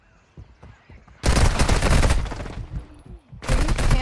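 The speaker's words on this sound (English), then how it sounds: "Friendly mortar strike inbound." Friendly mortar strike landing in Warzone Mobile, a burst of loud, dense explosions and gunfire lasting about two seconds, then a short lull and a second heavy burst, following quieter scattered game sounds.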